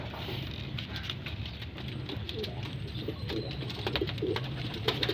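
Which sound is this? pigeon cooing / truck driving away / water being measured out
pigeon cooing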